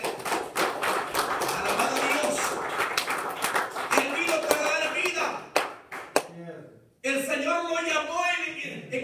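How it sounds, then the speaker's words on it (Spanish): A church congregation claps and applauds during a service, a run of loud, sharp claps mixed with voices before a brief drop and more cheering and talk. "Denle un aplauso al Señor en esta tarde."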